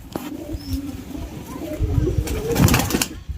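Punjabi pigeons cooing nearby, soft low coos with scattered rustles and wing or handling noises, growing busier toward the end.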